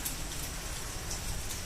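Rain falls in a steady, dense hiss of drops, fairly faint and continuous with no voices.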